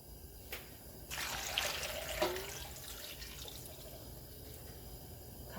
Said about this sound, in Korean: 이 감자가 물에 잠길 정도로 물을 부어주면 돼요